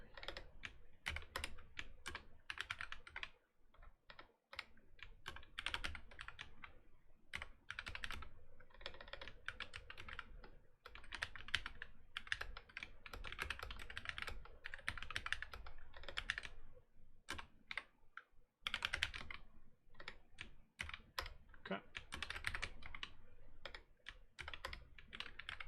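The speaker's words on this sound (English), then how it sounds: "I literally have to look at the keyboard each time I try to hit that closed caret." Fast, irregular typing on a computer keyboard, with dense bursts of close key clicks broken by brief pauses, alone without speech.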